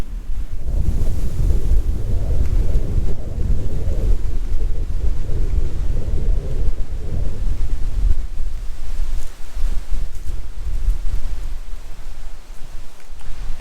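Strong wind gusts on a hiking trail at Glendalough State Park, Minnesota, heard as a loud, deep buffeting roar against the microphone that eases somewhat after a few seconds but keeps rumbling, with no talking.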